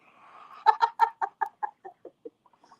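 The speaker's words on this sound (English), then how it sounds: "She's like, quack, quack, quack, quack, quack." A pet duck gives a loud, close series of about a dozen quacks that start strong and fall away in pitch and volume, trailing off into a few soft final calls, heard alone.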